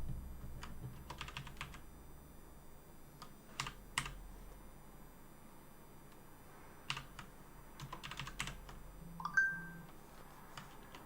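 Fingers tap on an English-layout computer keyboard during a game engine coding session, with scattered clusters of quiet keystrokes separated by pauses and a brief beep near the end.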